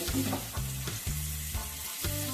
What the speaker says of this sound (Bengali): দেবো জিরে গুঁড়ো, দিয়ে একটু ভালো করে আমি নাড়বো